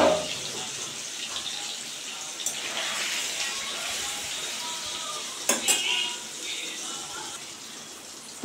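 Paneer pieces frying in oil in a pan, a steady sizzle throughout with occasional stirring clinks and scrapes against the pan.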